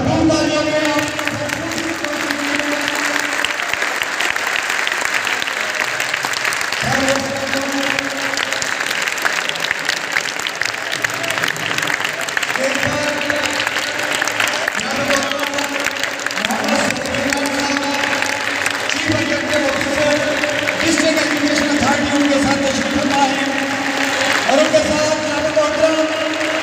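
A crowd at a PCB championship prize distribution ceremony in Khanewal applauds in sustained waves, heard alongside an amplified voice over the public address system.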